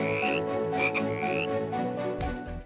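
Frogs croaking in a Hindi children's cartoon story: a dense, continuous chorus of rhythmic croaks with rising calls, loud and close, with no talk.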